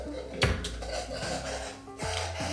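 An aquarium filter running dry, out of the water, on an 8-foot tank setup: a steady, odd mechanical hum broken by a few hollow knocks and clunks, close and moderately quiet, with no talk.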